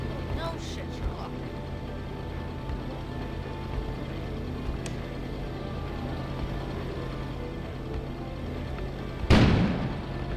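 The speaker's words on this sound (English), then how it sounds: "An explosion suddenly occurred outside." Sudden single explosion outside in a video game, a sharp loud burst near the end after a long stretch of quiet ambient hum.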